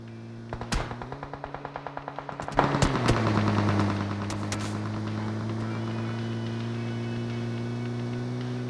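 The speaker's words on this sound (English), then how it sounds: "The shots come in." Rapid bursts of automatic gunfire ring out in a PUBG battle royale tournament match, a steady run of shots followed by a louder flurry of mixed weapons, then fading to a low engine-like hum.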